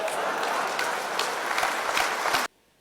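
A packed comedy audience bursts into steady applause, dense clapping filling the air at close range for over two seconds before it cuts off abruptly.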